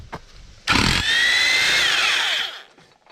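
A power tool on an MK4 TDI wagon's 02M transmission drives out a mount bolt through an extension, sounding as one loud, steady whining burst of close mechanical noise that runs nearly two seconds before winding down.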